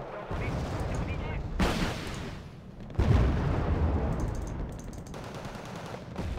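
A missile fires off during a Wargame: Red Dragon battle, a loud rushing blast. It bursts out amid continuous rattling gunfire and heavy explosions, with a voice talking over the combat.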